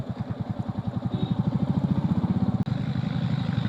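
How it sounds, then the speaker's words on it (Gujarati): A TVS Xpulse 200cc motorcycle engine runs while riding on a mountain road, giving a steady, pulsing low thrum that rises slightly in pace, loud and close, with one brief sharp dropout near the end. "એક્સપલ્સ 200 cc ની બાઇક છે"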